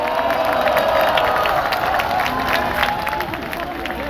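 A crowd at an outdoor political rally in front of a tower applauds and cheers, steady clapping with shouts mixed in and distant voices underneath.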